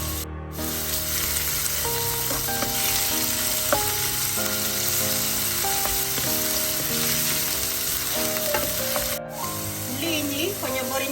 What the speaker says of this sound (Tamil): எண்ணெய் சூடாயிட்டு நான் இடிச்சு வச்ச உள்ளி இஞ்சியை சேர்க்க போறேன்.